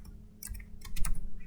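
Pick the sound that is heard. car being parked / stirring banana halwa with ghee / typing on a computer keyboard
typing on a computer keyboard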